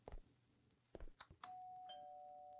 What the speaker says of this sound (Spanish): Sonido de timbre.